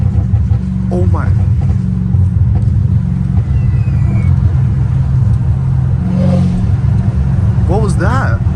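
Straight-piped Hellcat Redeye with its exhaust drumming in a deep, continuous rumble from start to finish, with a couple of sharp pops and rising revs toward the end, close and loud beneath occasional talking.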